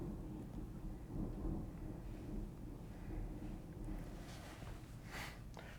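Thunder rumbles low and continuously over a steady wash of rain, with no talk, swelling and fading in long rolling waves across several seconds.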